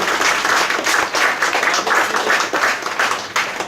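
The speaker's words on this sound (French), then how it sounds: "On peut l'applaudir encore." Audience applause at an awards ceremony in a restaurant in Mauritius, a steady dense clapping that fills the whole stretch at close, even loudness with slight swells.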